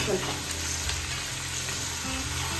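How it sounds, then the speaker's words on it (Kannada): Steady, close sizzling of mutton frying in a pressure cooker, with occasional stirring scrapes underneath; no talking. "ಅದನ್ನು ಕುಕ್ಕರ್ ಒಳಗಡೆಗೆ ಹಾಕ್ಕೊಂಡು ಚೆನ್ನಾಗಿ ಹುರಿಯೋಣ"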